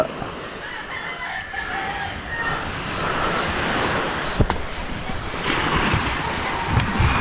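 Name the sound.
strong sea waves on the shore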